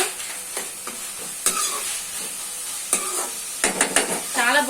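Broad beans, tomato and egg curry being stirred in a pan, with repeated scraping strokes of a spoon over a steady close sizzle, no voices.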